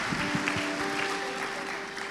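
A church congregation claps through a special anniversary talk-show service, moderate steady applause heard at some distance beneath a sustained tone.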